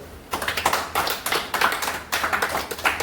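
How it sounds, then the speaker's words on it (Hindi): Clapping from a small group at a business team meeting, welcoming a leader: a few seconds of uneven, sparse hand claps in bursts, close and fairly loud, with no talk. "देखो अभी लीडर आया हमारे, इनके लिए ताली बजाओ।"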